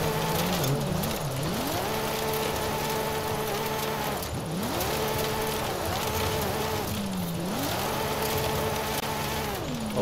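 An engine revs and wavers without a break as a car drifts across dirt in Forza Horizon 5. The pitch rises and falls in repeated swoops as the throttle is worked, loud and unbroken for the whole stretch.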